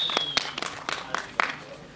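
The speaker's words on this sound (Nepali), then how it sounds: "एकचोटि जोरदार ताली यहाँहरु सबैका लागि।" An audience at a Nepali event for the film Happy Days claps sparsely, with a handful of distinct, separate claps rather than full sustained applause.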